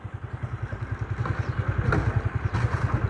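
A tractor engine runs steadily near a trolley being unloaded during shoulder construction work on a roadside, its low throbbing pulse repeating rapidly and evenly throughout, with a brief clatter in the middle.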